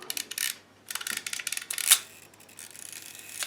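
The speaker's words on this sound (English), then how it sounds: "There, you see the shutter's firing as I wind." A faulty shutter on a 1950s Voigtlander Vito B camera fires while the film advance is being wound, giving a ratcheting series of small mechanical clicks with one sharper shutter snap near the middle, close and quiet.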